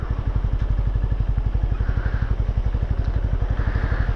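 A Benelli Imperiale 400 motorcycle rides through town, its engine thumping in a rapid, even pulse with mechanical clatter, close and fairly loud throughout, with no talk.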